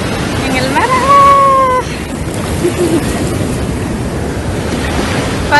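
Ocean waves washing onto a beach, a broad rushing surf roar with wind buffeting the microphone, fairly loud throughout, with a brief voice-like tone early on.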